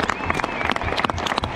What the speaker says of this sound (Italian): Gli applausi vanno avanti da 90 giorni